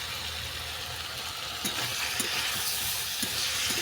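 A mixed vegetable curry of grated tomato and sugar sautéing in a pan, a soft continuous sizzle with a few scraping stirs of a spoon near the end, close and moderately quiet.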